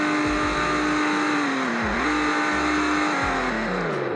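Simulated BMW Z4 engine in a Roblox driving game revving repeatedly, a steady buzzing engine note that rises and dips with throttle blips, close and continuous with no talking.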